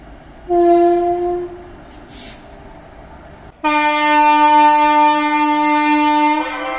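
A passenger train sounds its horn at the Azimganj junction platform: one short harmonic blast, then a second loud sustained blast holding for about three seconds, with no one speaking.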